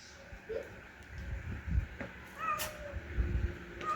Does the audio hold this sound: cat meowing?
yes